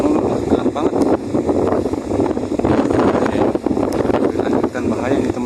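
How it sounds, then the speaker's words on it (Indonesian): Strong wind at sea buffets the microphone with heavy, continuous roaring gusts during a fishing trip as a storm approaches; someone talks throughout over the rumble. "ini anginnya tambah kenceng nih"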